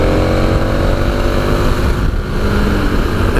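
A 2017 KTM 1290 Super Adventure T big V-twin motorcycle cruises on the road with a steady, loud engine drone blended with heavy wind rush, close and continuous.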